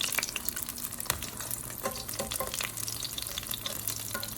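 Meat frying on a Korean BBQ grill, a steady close sizzle with occasional crackles and utensil scrapes, no talking.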